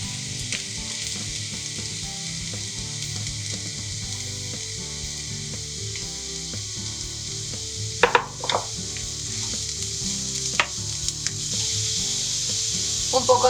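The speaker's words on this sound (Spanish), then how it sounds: "Un poco de aceite en una sartén y cuando esté caliente ponemos la parte blanca de la cebolleta. Incorporamos los champiñones." White spring onion and mushrooms fry in hot oil in a pan, a loud steady sizzle with occasional utensil scrapes and knocks, the sizzle swelling slightly toward the end.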